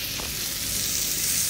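Fresh creek prawns with salt sizzle and fry on a tawa over a low gas flame: a steady, close, continuous hiss that stays even throughout, with no talking.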